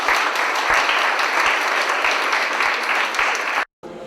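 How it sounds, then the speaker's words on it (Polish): A crowd at an art exhibition opening applauds loudly and steadily for several seconds, then the clapping cuts off abruptly. "powitajmy go oklaskami"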